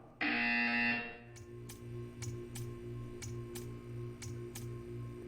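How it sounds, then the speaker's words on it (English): A harsh electronic buzzer from Portal 2 blares for about a second, followed by a steady low hum and a series of regular ticking clicks. "When you hear the buzzer, stare at the art."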